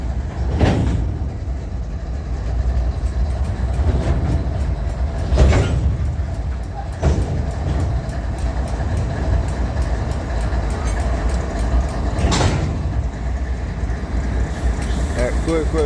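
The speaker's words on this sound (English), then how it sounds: "Quick, that air exhausting out of your triple valve." Air exhausts from the triple valve of a coal train locomotive during refueling, a rushing hiss against a continuous rumble of rail cars and engines, with a few sharp bursts and a voice talking over it.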